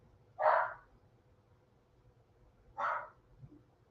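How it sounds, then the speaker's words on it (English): A dog barks twice in the background indoors, two short faint woofs spaced about two seconds apart against a quiet room, with a tiny softer sound after the second. "Can you guys hear him barking in the background?"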